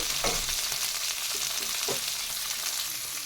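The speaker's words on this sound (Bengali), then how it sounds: "এইবার দিয়ে দিচ্ছি টমেটো ভালো করে নাড়াচাড়া করে নিচ্ছি" Tomatoes fry in hot oil in a pan for a bata fish curry with capsicum and eggplant, giving a loud, steady sizzle with a few scrapes of a spatula as they are stirred.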